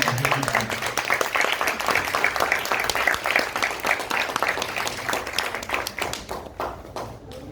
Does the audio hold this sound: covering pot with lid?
no